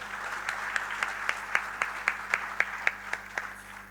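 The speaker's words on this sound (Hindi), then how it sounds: "एक तालियों का दौर इन प्रतिभाशाली कलाकारों के लिए।" Regular claps at an even beat, faint and a little distant, over a low steady hum, like a small group clapping in time.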